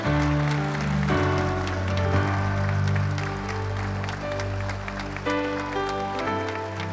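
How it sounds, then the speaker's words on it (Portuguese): A congregation claps during a Catholic family Mass. The applause blends with loud sustained music throughout, and the clapping is partly masked beneath the tones. "Vamos aplaudir agora. Vamos aplaudir."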